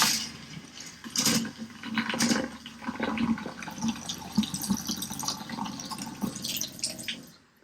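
Pink RV antifreeze gushes steadily from a faucet during winterizing, a continuous splashing water stream close by with no talk.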